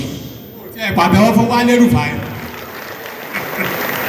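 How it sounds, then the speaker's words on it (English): An audience at a daylong summit on sustainable food production in southwest Nigeria applauds a speaker; the clapping swells briefly under a talking voice, then fades to a low murmur. "A round of applause for him"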